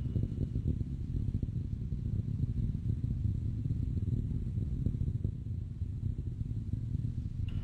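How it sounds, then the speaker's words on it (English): Juno Jupiter mission rocket, with solid rocket boosters, throttling up to full thrust: a steady, heavy, continuous low roar and rumble that holds at an even loudness throughout, heard from a distance. "Vehicle is starting back up to full thrust."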